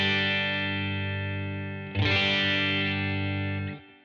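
A distorted electric guitar chord through a pedalboard with the compressor off rings out, then a second strummed chord hits at about two seconds and sustains before being cut off, loud and close.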